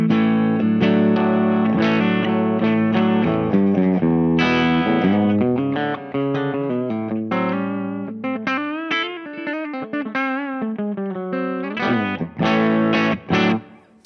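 A Les Paul electric guitar runs through a Mostronics switcher into a Cherrytone OTS MIDI amp and a two-nose Torpedo Captor X, with a 12-inch Greenback cabinet. Full, slightly driven chords and ringing single notes play continuously and alone for the whole passage.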